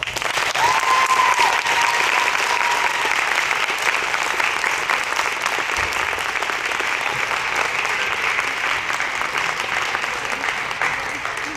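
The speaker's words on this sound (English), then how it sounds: "Please give her a round of applause." A crowd in a gym applauds a senior girls' basketball player at a senior recognition game, sustained loud clapping that carries on evenly with faint crowd murmur underneath.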